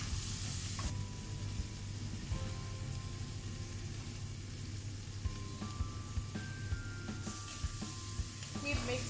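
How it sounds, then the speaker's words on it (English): Tomatoes sizzle and fry in a pot of black pepper chicken curry, a steady close hiss with occasional stirring scrapes and soft clinks throughout. "Now I'm going to cook this until the tomato is cooked down."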